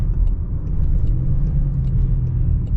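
A 2022 Land Rover Discovery Sport R-Dynamic S in manual mode pulls with a steady low engine rumble, loud and close from the cabin, holding an even drone through the short stretch.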